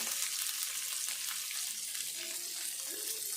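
A spoon stirs potato and cabbage curry in a pan, a soft sizzle with light scraping strokes, quiet and continuous, with no talking.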